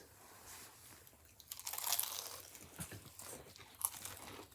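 Someone bites into crunchy Raising Cane's fried chicken, giving a loud crisp crunch followed by close-up chewing and a second sharp crackle, with no talk.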